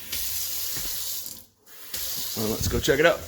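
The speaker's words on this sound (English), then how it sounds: "Turning on the hot water now." Hot water runs as a steady hiss from a kitchen tap fed through a thermostatic anti-scald valve, breaks off briefly, then resumes while someone talks over it.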